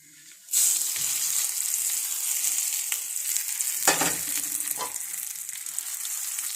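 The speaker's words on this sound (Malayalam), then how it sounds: "എണ്ണ ഒഴിച്ച് കടുക് ഇട്ട് കടുക് വറുത്തിട്ടുണ്ട് ഇത് നമുക്ക് ഈ ചമ്മന്തിക്കകത്തേക്ക് അങ്ങ് ഒഴിച്ചു കൊടുക്കാം" Hot oil with fried mustard seeds is poured into tomato chutney and bursts into a sudden, sustained sizzle that stays fairly loud, with a few crackles and a clink midway.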